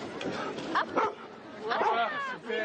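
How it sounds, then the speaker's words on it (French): A small assistance dog gives a few short, high yips and barks close by on command, with people talking and background chatter around it at a Téléthon event in France. "Et tu peux le faire aboyer?"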